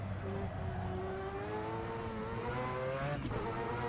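In a racing game, a Mazda 787B race car engine revs steadily higher, its whining tone climbing under a continuous drone on a mountain touge course, with a brief dip near the end as the revs shift.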